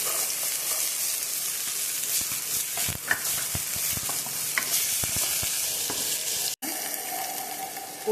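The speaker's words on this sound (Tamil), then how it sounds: "பொடியாக நறுக்கின வெங்காயம் போட்டுக்கோங்க." Finely chopped onions frying in hot oil in a pan, giving a steady close sizzle with scattered scrapes and taps of stirring, and no talking.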